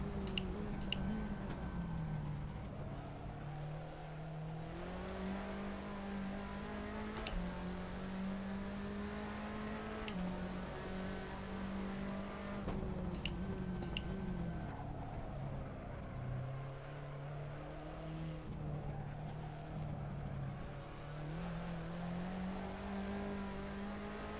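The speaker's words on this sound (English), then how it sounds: "Tires screeching all the way through." Race car tires screeching through a turn at the Lausitzring, a sustained squeal riding over a steady, loud engine drone with shifting pitch as the car works through the corner.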